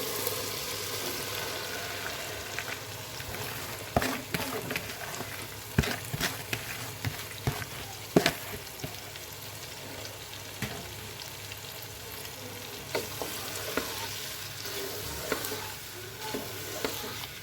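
Potatoes and tomatoes fry in a spice paste in a pan, with a steady close sizzle, occasional stirring scrapes and sharp spatter pops throughout.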